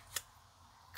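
Scissors make a single short, sharp snip through card while a handmade pop-up Christmas card is being trimmed, a brief close cut with quiet room tone before and after.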